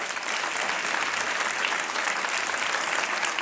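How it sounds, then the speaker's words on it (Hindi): Steady, dense applause from a game show studio audience, continuous and fairly loud throughout with no voices over it. "और तालियां बजती रहनी चाहिए"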